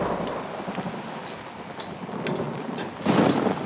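Deep thunder rolls from a rooftop in the horror game Outlast, a steady wash of rain and wind underneath and a louder, nearer crack swelling near the end.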